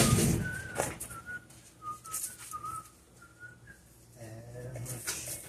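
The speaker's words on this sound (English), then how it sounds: "He's whistling" A person whistles a slow, halting tune in short notes in a kitchen during baking, with some background clatter and low voices.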